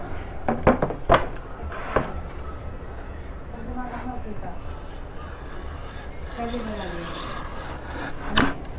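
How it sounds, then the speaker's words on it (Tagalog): A regular cutter trims excess edge banding from a wooden bedside table, giving rough scraping and rasping strokes with a few sharp knocks near the start, under faint background voices. "papakita ko sa inyo kung paano siya kinakat using regular cutter"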